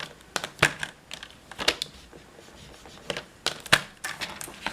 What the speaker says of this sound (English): we're going to score at the top and the bottom only up to that cut line.